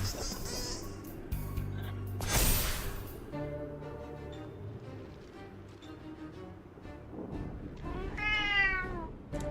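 A domestic cat meows near an indoor microphone, with a few drawn-out calls, the clearest one near the end, over quiet room sound and faint background noise.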